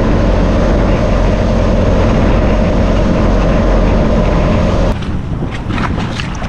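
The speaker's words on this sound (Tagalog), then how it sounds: "Medyo naglakas naman ang hangin" Strong wind roars across a fishing boat at sea in rough, wavy conditions, a dense, loud, continuous rush that eases slightly near the end, with faint voices.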